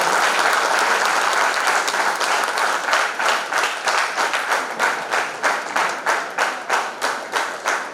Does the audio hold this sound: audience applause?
yes